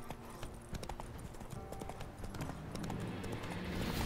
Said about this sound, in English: That's another guy on a horse.